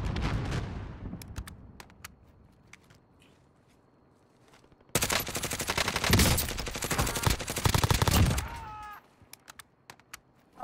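Gunfire in Call of Duty Warzone (Cold War season 1) with a Grau and a MAC-10 in play: scattered single shots first, then a dense loud burst of automatic fire lasting several seconds before fading out.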